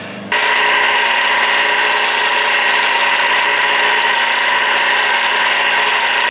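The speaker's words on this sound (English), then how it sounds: "I just made little passes with the sander, the belt sander there, until it was close." Belt sander shaping a wooden katana handle, a steady loud whirring grind that starts abruptly and runs unbroken for several seconds before cutting off.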